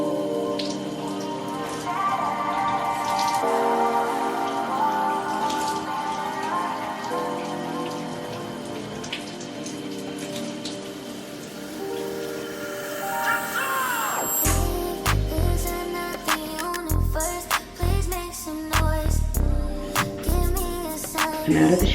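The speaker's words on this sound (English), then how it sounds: "I'm out of the shower." A home shower runs steadily, a dense hiss of spraying water that grows busier and more splashy near the end, loud and close with no one speaking.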